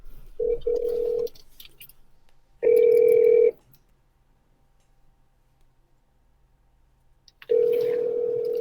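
A telephone ringback tone sounds in separate bursts with long silent gaps between them, clear and steady like an outgoing call waiting to connect.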